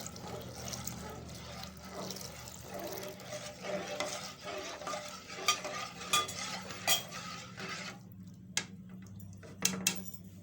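Yellow custard stirred into boiling milk, a quiet, steady swirl of liquid with occasional spoon taps and scrapes against the pot, close and soft, with no talk.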